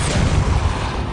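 A Depulso spell cast in the video game Hogwarts Legacy, heard as a dense, forceful booming blast that rumbles loudly and steadily throughout, with no voices.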